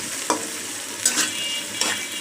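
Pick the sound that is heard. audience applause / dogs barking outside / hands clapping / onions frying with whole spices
onions frying with whole spices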